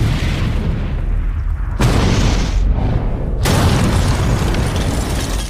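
A sustained, roaring rumble of bomb blast noise fills the clip, loud and broadband, surging twice as debris and echoes thunder on.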